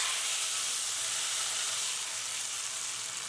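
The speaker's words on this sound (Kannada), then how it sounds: "ತುಪ್ಪದ ಒಗ್ಗರಣೆ ಸೇರಿಸ್ಕೊಳ್ಳೋಣ." Ghee tempering is poured into a pot of foxtail millet bisibelebath. It gives a bright, steady sizzling hiss that fades slightly toward the end, with no talking.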